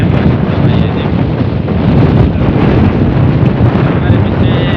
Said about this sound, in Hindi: अभी तो बहुत हवा चल रही है